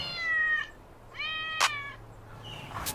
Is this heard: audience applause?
no